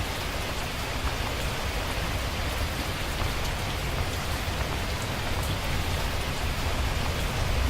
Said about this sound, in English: And we have rain.